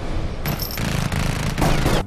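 Glock 18 machine pistol with hard chrome slide and 33-round magazine firing in rapid automatic bursts, a loud, dense, continuous rattle of shots lasting most of the moment with no talking.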